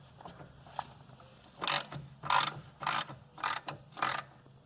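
A ratchet with an 18mm socket clicks as it removes the strut bolt nut on a VW Golf mk4. Five close, loud bursts of rapid pawl clicks come in quick succession after a quiet start, with no talk.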